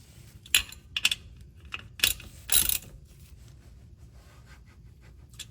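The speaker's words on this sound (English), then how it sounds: "I'm going to reinstall the drain plug now." Ratchet clicks and wrench handling while a rear differential drain plug is reinstalled and snugged tight on a 2021+ GMC Yukon, several short metallic bursts close by with quiet gaps between.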